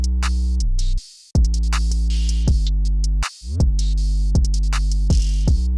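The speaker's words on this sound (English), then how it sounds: "And full drums sound like this." Full trap drums play over a sustained distorted 808 bass: crisp hi-hats and claps ride on top while the deep bass holds and slides, briefly dropping out twice, loud and with no voice.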